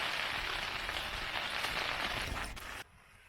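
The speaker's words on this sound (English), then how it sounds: "Now it's not raining too heavy at this point." Light, persistent morning rain falls in the woods, a dense even hiss of drops close by that cuts off abruptly near the end to near quiet.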